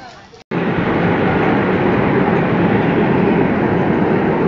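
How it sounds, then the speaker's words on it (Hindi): A train passing at Lucknow Zoo, heard as a loud, steady, close rumble and rush that starts abruptly after a brief gap and holds unbroken to the end. "रेलगाड़ी छिक छिक छिक इसके अंदर भी रेलगाड़ी है"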